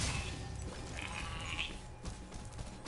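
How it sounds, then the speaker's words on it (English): In the Spyro Reignited video game, a goat gives a couple of short, wavering bleats amid the game's background music and ambience, at moderate level with no talking. "That's a goat."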